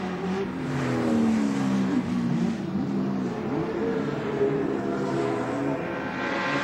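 1983 touring race cars at Adelaide International Raceway roar close by, engines revving and dropping in pitch under hard braking, one car chasing another in a loud continuous blare.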